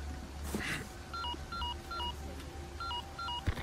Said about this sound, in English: Sorry, Ashley, I've got a phone call.